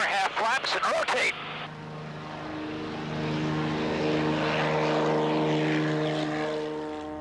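A Bellanca propeller airplane makes a high-performance takeoff, its engine droning loudly and building steadily in power, after someone speaks briefly at the start.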